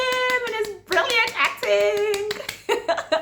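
Hands clap in quick bursts for a favourite K-drama actor, the sharp slaps mixed in with a near, continuous voice.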